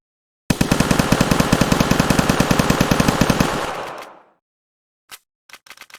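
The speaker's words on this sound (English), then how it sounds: "I just got a little submachine gun. The recoil was very hard to do." A submachine gun in Witcher 3 fires one long, loud, rapid automatic burst of about three seconds, then trails off, followed by a few short, separate bursts.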